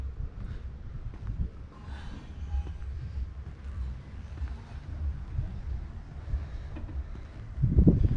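Low, steady wind near Lake Sevan, Armenia, buffets the microphone, a rumbling roar that swells and eases, with a stronger gust near the end.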